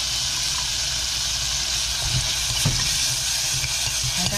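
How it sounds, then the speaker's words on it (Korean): Garlic and meat stir-frying in a pan, a continuous loud sizzle and hiss with occasional scraping clicks of the utensil, heard alone. "일단 다 고기가 완전히 다 익을 때까지 볶아야지."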